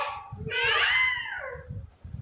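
A single drawn-out cat meow that rises and falls over about a second, fairly close, with faint low background noise underneath.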